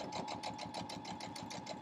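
A sewing machine stitches through a fleece quilt, its steady rapid whirring motor and needle chatter running continuously up close with no pauses.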